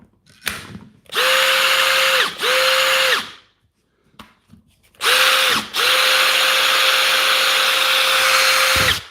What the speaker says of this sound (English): Did we try this in the drill yet?